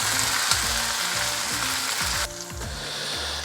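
Crushed ginger, garlic and green chilli fry in coconut oil with a loud, continuous sizzle that drops noticeably quieter partway through.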